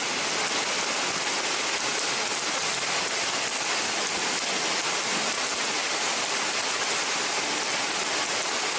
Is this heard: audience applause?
no